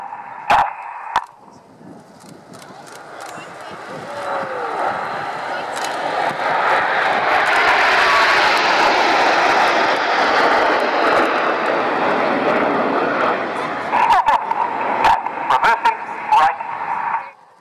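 A Eurofighter Typhoon combat jet flies a display at an air show, its engine roar swelling from a distant rumble to a loud, sustained pass before fading, with a commentator speaking over the start and end.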